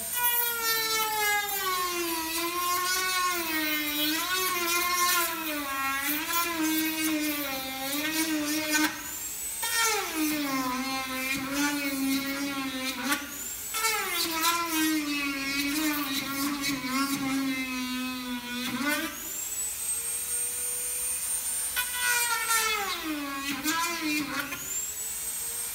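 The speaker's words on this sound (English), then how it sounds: "turn on the fan, turn on the Dremel" A Dremel rotary tool grinds the edge of a widened hole with a fan running, a sustained high whine that bends in pitch as the load changes, briefly dropping off and coming back up, close and loud.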